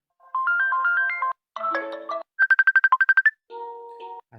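A Messenger notification ringtone plays from a phone as four short melodic phrases in a row. The chiming patterns shift between them, and one passage is a rapid run of pulsed tones. It sounds clear and close with no talk.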